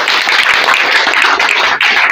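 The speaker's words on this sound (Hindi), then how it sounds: "बहुत बहुत धन्यवाद, एक बार जोरदार ताली" Loud, dense round of applause from a crowd at a public event in Bihar, steady clapping throughout with a brief dip near the end.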